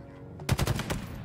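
Rapid burst of automatic gunfire in the Halo Infinite multiplayer shooter, about half a dozen sharp cracks in quick succession, loud and close, then a short fading tail.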